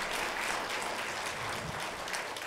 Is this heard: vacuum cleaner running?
no